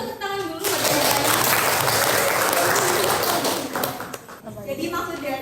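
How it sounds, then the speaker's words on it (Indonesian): A dense burst of audience applause at a communication law lecture swells into a sustained roar of many hands, then thins out, with talk mixed in. "Kasih tepuk tangan dulu"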